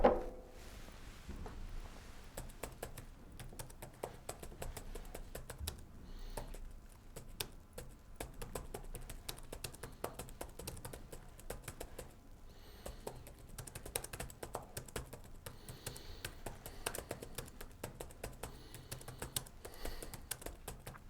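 Rapid typing on a computer keyboard runs on for about twenty seconds in irregular bursts of clicking keys, with brief pauses, fairly faint and close to the mic.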